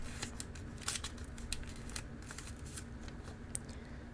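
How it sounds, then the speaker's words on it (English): Quiet crisp crackles and soft creases as a sheet of paper is folded up and pressed flat to shape an origami camel, with scattered small snaps over a faint background hiss. "And then you're just going to fold up and flatten."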